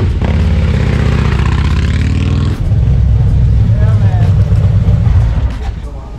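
A Harley-Davidson Road Glide motorcycle with newly installed Wilbers suspension rides off nearby, its engine a loud, continuous low rumble that shifts pitch as it pulls away.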